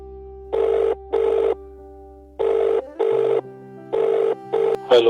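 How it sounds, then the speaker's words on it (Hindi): A telephone rings on an outgoing call, three pairs of loud, steady electronic ring bursts with pauses between, close and clear, ending as a voice begins to speak. "जी आज फिर एक बार सुखिया को फोन लगा दो"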